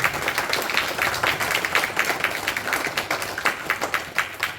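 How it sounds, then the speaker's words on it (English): Audience applause at a cricket club presentation evening held at a Hindu temple in Derby, steady dense clapping from many hands, continuous and fairly close throughout. "big round of applause"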